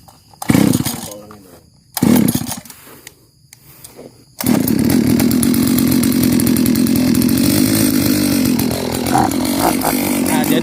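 A motorized hand drill starts after a few short revs and then runs steadily, loud and close, grinding continuously as it bores into a palm trunk.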